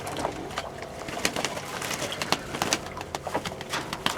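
Pet birds, probably pigeons, coo in soft repeated calls against busy background rustling and scattered taps, moderately close and without talk.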